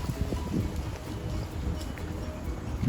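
Wind gusting and buffeting against the microphone in a yard by a driveway, a continuous low roar with no talking.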